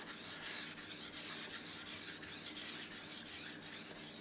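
A knife edge is drawn across a fine whetstone at about twelve degrees in steady, evenly spaced rasping strokes, roughly a dozen in quick succession, quiet and close with no voices.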